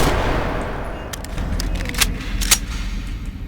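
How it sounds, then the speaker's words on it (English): A Glock 19 pistol fires in a modded Fallout video game, with several sharp, loud gunshots spaced irregularly over a steady background hum. "This is the Glock 19."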